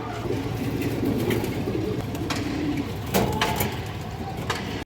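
Pigeons softly cooing in a loft over a steady low background murmur, a few quiet clicks and knocks scattered through, fairly faint and continuous.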